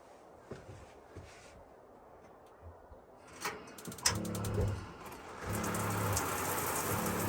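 A 12-inch rain head shower inside a Dodge ProMaster van conversion: scattered clicks and handling noises, then water starts and settles into a steady, moderately loud spray hiss for the last couple of seconds.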